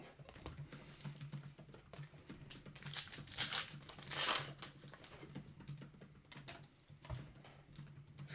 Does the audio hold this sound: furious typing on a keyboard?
yes